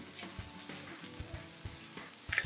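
Spice mix being stirred into onions frying in a pan for a Kerala-style beef curry, with a steady close sizzle and soft intermittent scraping strokes throughout.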